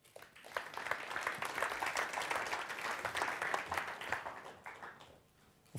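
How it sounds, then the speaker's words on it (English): An audience at a cloud-native tech event claps steadily for several seconds in sustained applause that builds, holds and then tapers off near the end, with no voices on top. "So please, applause for Juan."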